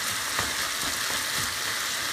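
Onions softening in a hot pan for hamburger steak subs, a dense, even hiss of frying with a few faint stirring swishes, loud and unbroken.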